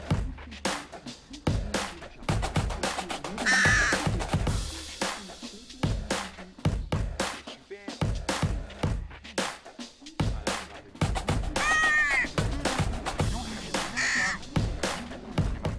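Crows caw repeatedly while picking through litter on a parking lot, harsh calls scattered over a dense bed of clattering, rustling noise, with some talk mixed in.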